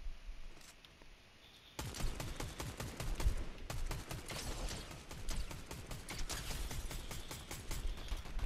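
Gunfire in a Fortnite match, a rapid rattling string of sharp shots that starts abruptly after a quiet opening and keeps going nearly nonstop, fairly close and loud.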